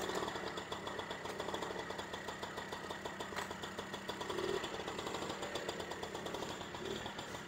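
A small Honda Motocompo scooter engine idles steadily, a continuous putter with a rapid mechanical knock that holds level throughout, close by.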